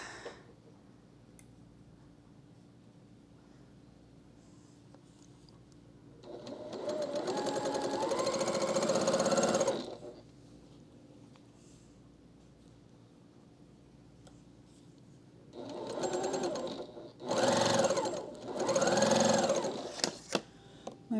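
A freshly oiled sewing machine stitches quilt pieces together for a pumpkin spice quilt block, running in a loud whirring burst of about three seconds, then a quiet pause, then several shorter, louder bursts close by.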